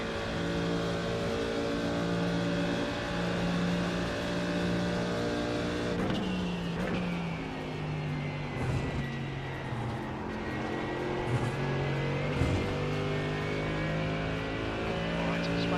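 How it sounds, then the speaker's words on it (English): A race car engine in the iRacing sim roars steadily in the IMSA or GT3 field, pitch climbing and dropping through gear shifts, with a couple of sharp downshift sweeps, close and loud throughout. "Alright, Swank, there's a faster car approaching."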